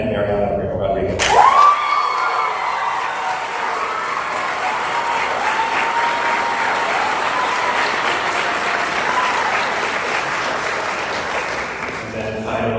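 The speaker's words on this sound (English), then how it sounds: "Help me in congratulating the inaugural recipients of the Jocelyn Garcia Department Minor Award" Graduation ceremony crowd bursts into loud, sustained applause and cheering for award recipients, a dense roar of clapping that rises sharply and holds steady before tapering slightly near the end.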